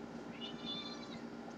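A female cat meows softly and drawn-out when touched, one faint close cry over a low background hum.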